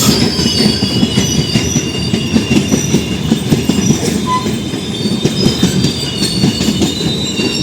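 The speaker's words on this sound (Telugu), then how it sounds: "లోకల్ మెమో వస్తుంది చూడండి" A local MEMU train rolls past at Karunagappally railway station in India, its wheels and carriages making a loud, steady rumble with rhythmic clatter and faint squeal throughout, with no voices.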